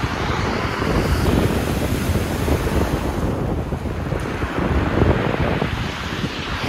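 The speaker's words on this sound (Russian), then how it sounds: "На море легкое волнение" Light waves wash steadily along the Black Sea shore at Sochi in December, a continuous surf rush mixed with strong wind buffeting the microphone, with no voices.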